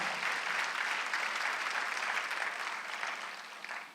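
A church congregation at a Sunday worship service claps together in a steady, dense wash of applause that holds for four seconds and fades slightly at the end, with no speech over it.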